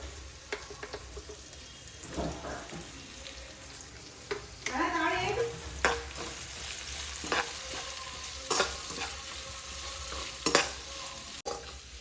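Onions frying with salt in a pan for mango chitranna, with a steady sizzle and intermittent sharp clicks and scrapes of stirring, and one brief louder burst of sizzling midway.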